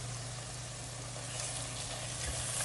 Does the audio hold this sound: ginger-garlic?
yes